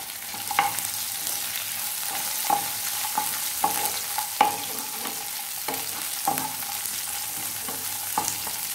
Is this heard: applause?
no